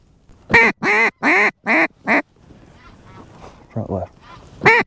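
Five loud, evenly spaced duck quacks in quick succession during a duck hunt, then faint background talk, two softer quacks and one more loud quack at the end.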